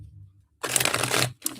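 A deck of cards riffled in a quick, crisp burst, then a second shorter riffle after a brief pause, close and fairly loud.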